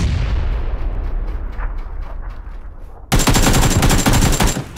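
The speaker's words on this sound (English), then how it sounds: "Some more AK spray control there" Loud sustained burst of AK rifle automatic fire in a video game erupts abruptly after a few seconds of lower rumbling gunfire, dense and rapid, close to the listener.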